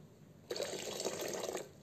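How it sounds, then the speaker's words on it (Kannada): Water pours into a curry for 1 second, a short, steady splashing rush that starts abruptly and stops, fairly close and alone. "ನೋಡಿರಿ ಇಷ್ಟು ನೀರು ಹಾಕಿದೆ"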